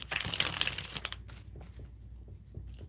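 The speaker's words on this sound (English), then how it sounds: "One more shuffle." A tarot card deck is shuffled quietly, a brief crisp riffle of cards that softens into faint rustling.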